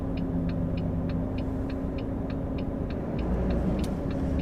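A Volvo truck pulls away uphill, its diesel engine a loud, steady low rumble, with a regular ticking, like an indicator, clicking over the top throughout.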